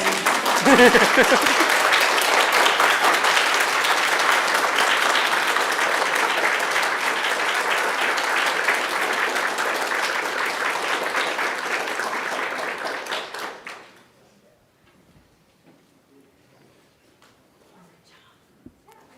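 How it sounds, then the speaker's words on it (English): Sustained applause from a large audience at a convention talk, loud and steady for about thirteen seconds, then fading out abruptly into near silence. "Can we clap at this point?"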